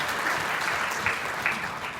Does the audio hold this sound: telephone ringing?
no